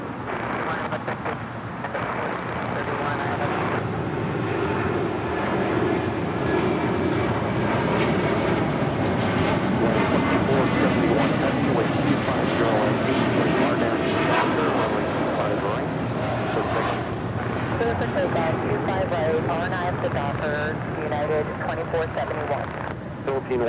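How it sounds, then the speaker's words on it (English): An American Airlines Boeing 787-8 Dreamliner takes off for Tokyo Haneda, its engine roar building and sustained for over twenty seconds, with voices talking intermittently over the steady rumble. "American 27 taking off to Tokyo Haneda on a 787-8 Dreamliner"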